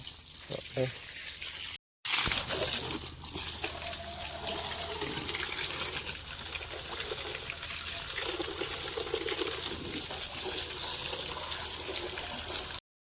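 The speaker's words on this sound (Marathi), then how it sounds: "पाणी मारू दे मला एकदा, परत पाणी मारू दे." A steady hiss of water spraying across a vehicle during a wash, loud and continuous after a brief cut, with voices talking near the start.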